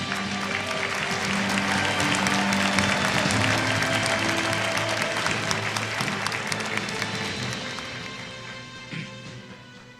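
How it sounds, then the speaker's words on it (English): Sustained applause from a large audience, steady clapping that fills the room and slowly tapers off toward the end. "Let's once again welcome him with a big round of applause."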